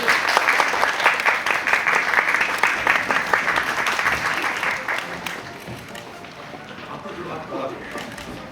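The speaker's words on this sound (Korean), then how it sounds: "큰 박수 부탁드립니다." Audience applause at a theatre pre-show, a burst of many people clapping that is loud at first and then thins out, while a voice starts talking over the fading claps.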